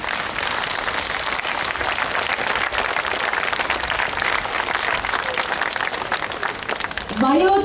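Audience applause greets boxers and guests at a boxing event in Yeghegnadzor, Vayots Dzor, Armenia: dense, steady clapping from a large crowd throughout, with a voice rising briefly near the end.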